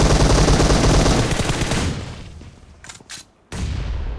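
Dense automatic gunfire and explosions from a Battlegrounds Mobile India match roar loudly and continuously, then thin out, with a few sharp blasts and a sudden resumption of heavy fire near the end.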